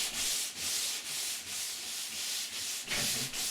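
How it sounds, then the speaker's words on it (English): Hand sanding a kayak deck with 80 grit sandpaper, steady back-and-forth scratchy rasping strokes in a continuous rhythm, close and moderately loud, with no talk. "To remove tracks from the coarse machine sanding, I sand with an 80 grit paper."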